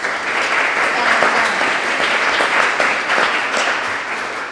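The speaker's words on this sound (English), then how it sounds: "let's just give them a round of applause" A crowd at a startup demo day breaks into sustained applause, dense clapping that holds steady for several seconds before slightly tapering.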